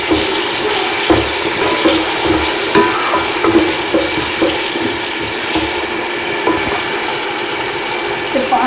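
Garlic ginger paste frying in a pan for chicken biryani, a continuous bright sizzle with scraping stir strokes throughout, close and fairly loud with no speech.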